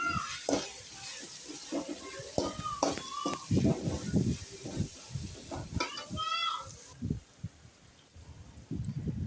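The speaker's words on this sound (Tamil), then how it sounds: "காய் போட்டு நல்லா வதக்கிடுவோம்" Vegetables sautéing in a pan with tomatoes for an Andhra-style mutton curry, sizzling and crackling under repeated scraping strokes of a spoon, close and steady, quieting briefly near the end.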